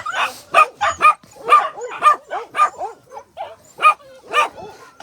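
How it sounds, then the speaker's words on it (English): Several puppies yap and bark in quick bursts, high-pitched and close, with whimpering yips between the barks. "Hello, puppies. Beautiful puppies."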